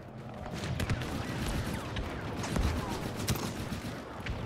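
Dense, continuous blaster gunfire and battle noise in Star Wars Battlefront II, a steady roar of overlapping shots with a few sharper cracks and faint talk underneath.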